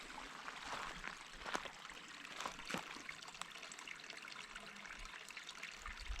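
Water trickling and splashing steadily from a pipe set in the ground on a mountain hillside, a continuous close wash of flowing water with no talk.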